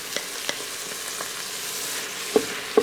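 Garlic sautéing in an Instant Pot for beef stroganoff, a quiet steady sizzle with a couple of brief stirring clinks near the end.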